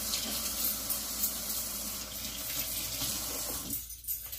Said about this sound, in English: Rinse off the fishy.